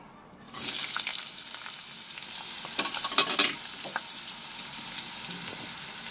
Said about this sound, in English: Now in that same oil, I am going to add the sliced onion.